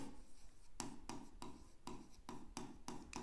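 A pen scratches across paper in seven or eight short, evenly spaced strokes, close and quiet, with no talking.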